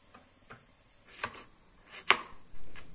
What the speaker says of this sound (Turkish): Biber büyük olduğu için ben yarım kapya biber doğradım.